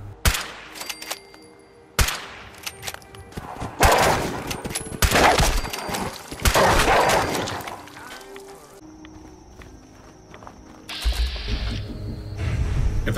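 Modded weapon fired from the hip in Fallout 4, a Winchester-style gun. Loud, close bursts of rapid gunfire come in several volleys, with sharp cracks and impacts between them and a lingering electronic whine near the end. No one speaks.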